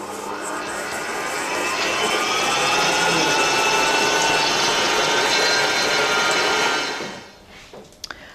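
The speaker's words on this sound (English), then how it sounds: "we're going to mix this up in a mixer for around 6 minutes" An electric stand mixer beats butter and sugar for a sponge cake, making a steady, close motor whine with a rising hum. It runs continuously, then winds down and stops, followed by a few faint clinks.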